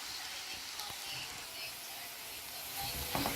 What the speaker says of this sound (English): So I'm still browning all this.